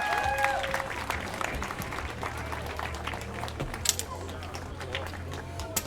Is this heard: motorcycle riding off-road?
no